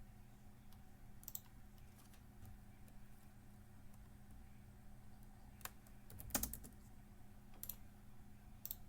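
Typing on a computer keyboard while configuring network routers, faint scattered key clicks in short bursts over a low background hum, with one louder cluster of taps and no talk.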